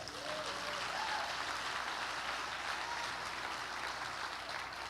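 Congregation at a church Hanukkah service applauding, a steady, even wash of many hands heard from a distance and fairly faint throughout.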